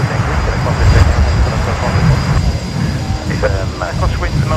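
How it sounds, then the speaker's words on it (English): A Fokker airliner's engines start up nearby at an airport, a loud, dense roar holding steady with faint tonal whines rising over it, and voices talking underneath. "I can hear a Fokker on startup being nice and noisy in front of us"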